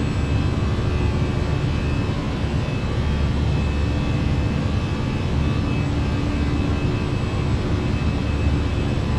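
Steady jet engine roar of a Fenix A319 airliner climbing out in a flight simulator, a dense continuous drone with a faint whine, no talking.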